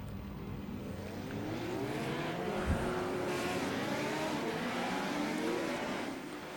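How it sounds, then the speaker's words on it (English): Small Legend-series race cars circle a track in a league heat, several buzzing engines overlapping in a steady, rising and falling drone with pitch sweeps as they pass, loud and sustained without talk. "I love the sound of these cars."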